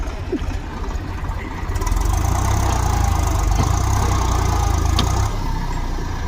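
A motorbike stuck in the ground runs its engine close by, a loud buzzing drone that rises as the throttle opens partway through, then eases slightly near the end, with faint voices under it.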